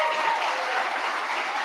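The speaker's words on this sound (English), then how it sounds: "Let's give them a round of applause." Audience applause for school principals and administrators at a gathering, a continuous wash of many hands clapping at a moderate level, steady from start to finish.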